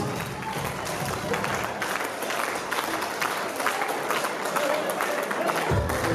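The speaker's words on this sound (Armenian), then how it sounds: "ավելի բուրն ծափահարությունները" Concert audience applauding at a 50th jubilee show, a dense, steady wash of clapping from a large crowd filling the hall at fairly close range.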